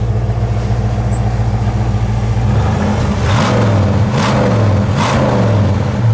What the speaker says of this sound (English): Give it a little gas.